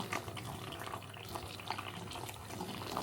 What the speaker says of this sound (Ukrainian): Трошки і заливаю гарячою водою з чайником.